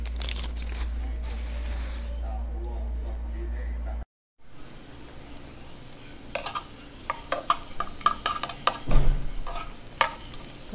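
Garlic browns in a pan for rice, sizzling steadily while a utensil stirs and scrapes. After a brief pause the frying comes back quieter, with clinks and clatter of cookware.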